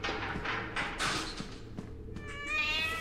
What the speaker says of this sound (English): I just heard the cat.